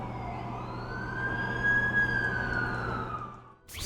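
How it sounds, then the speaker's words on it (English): An ambulance siren in the Superhero FXL video game wails loudly in one long rising and falling tone over a low engine rumble, then cuts off abruptly near the end. "That's the ambulance I called."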